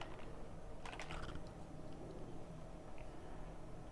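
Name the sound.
typing on a computer keyboard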